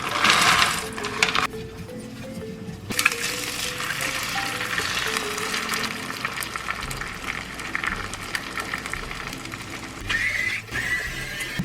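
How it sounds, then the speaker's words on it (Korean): Eggs are stir-fried in a hot pan with a dense, steady sizzle and crackle that carries on throughout, close by and with no talking. "계란 볶을 거예요"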